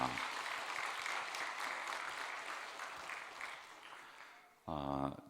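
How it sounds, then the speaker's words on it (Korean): Church congregation giving a round of encouraging applause during a special dawn prayer service, steady clapping that gradually fades, then a voice speaks briefly at the end. "다시 한번 격려 박수하겠습니다"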